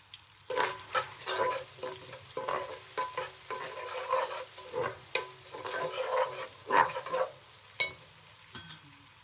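Boiled meat, fried potatoes and onions are stirred together in a pan for an Adeni zurbian, a spoon scraping in repeated uneven strokes over a soft steady sizzle, close and moderately loud with no talk.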